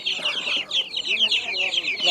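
Chickens and young chicks cluck and chirp continuously at a busy outdoor poultry market, a dense close chorus of bright, overlapping calls with faint voices underneath.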